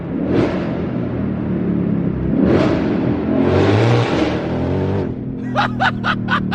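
A straight-piped Ford Mustang GT500 revs hard through the gears with a loud, close engine roar, then fires off a rapid burst of sharp exhaust pops and crackles on the upshift near the end.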